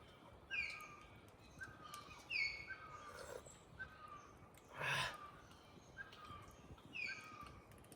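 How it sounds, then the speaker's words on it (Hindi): Birds chirp in a deep jungle: faint, distant calls repeat in short rising phrases every second or so over quiet background hiss, with one brief louder rustle near the middle. "इतना साउंड, इतना चिड़िया का आवाज़"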